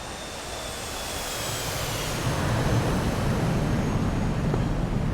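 A fighter jet in DCS closes in on a carrier deck, a steady roaring engine whoosh swelling gradually louder and then holding, with no voices over it.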